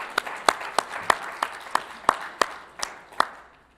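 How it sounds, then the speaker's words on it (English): Sparse warm-up clapping from a small audience at a presentation, about a dozen sharp, separate claps in an irregular rhythm, fairly close and clear with little else around them. "Thanks for clapping for me."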